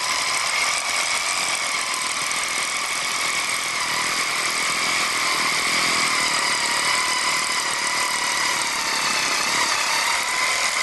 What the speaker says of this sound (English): go ahead and drill the hole